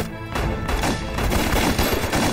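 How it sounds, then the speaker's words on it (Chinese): Dense gunfire fills a battle scene in a Chinese war film about the war against Japan, with rapid overlapping shots and bursts in a continuous loud fusillade and no pauses. "停止射击。"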